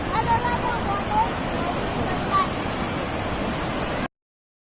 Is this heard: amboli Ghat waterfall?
yes